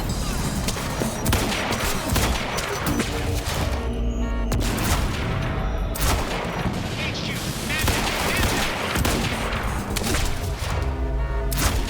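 Heavy gunfire from big guns in the Quantum Break video game, a loud, dense and continuous barrage of rapid shots and booming impacts with no pauses across the whole stretch.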